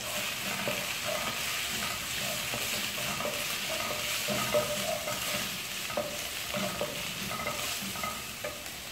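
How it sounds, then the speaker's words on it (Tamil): Green chillies and garlic fry in hot oil in a pan, giving a continuous close sizzle broken by regular scraping stirs of a spoon, with no talking. "பச்சை மிளகாய் போட்டுக்கலாம்"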